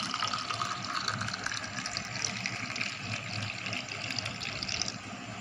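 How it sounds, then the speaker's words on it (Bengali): Ice cream mixture pours steadily into a container at home, a continuous wet, splashy liquid stream held close and at even loudness throughout, with no talking. "মিশ্রণগুলো ঢেলে নিচ্ছে আইসক্রিমের মধ্যে।"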